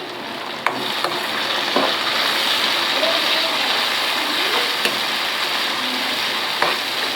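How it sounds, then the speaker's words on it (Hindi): Tomatoes dropped into onions frying in oil and stirred, a steady close sizzle with occasional scraping clicks of a spoon against the pan, a voice speaking faintly under the frying. "टमाटर डाल के चला दिया।"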